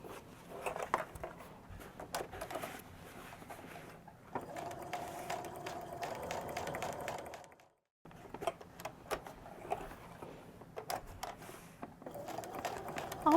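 A sewing machine stitches a backpack in quiet runs of rapid rhythmic clatter, pausing briefly between passes as the work is turned, alongside small handling noises.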